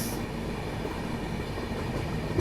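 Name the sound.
CR Rajdhani Express train passing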